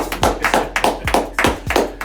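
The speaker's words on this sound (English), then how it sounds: "give yourself a round of applause" A small group claps in a steady rhythm of about eight distinct hand claps, fairly close and spaced evenly, with no talking over them.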